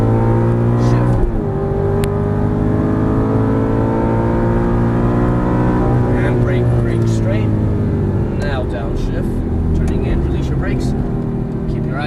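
An Aston Martin V8 Vantage GT race car engine revs and pulls hard on track, its droning harmonics climbing, then dropping through a gearshift, under continuous talk from a voice inside.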